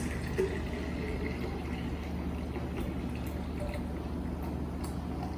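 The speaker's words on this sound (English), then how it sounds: "Now you pour it in your flask, whatever you have, which you can store in the fridge." Homemade aam panna, a raw mango summer drink, is poured into a flask as a soft, continuous trickle and splash. The sound sits low against a steady room hum.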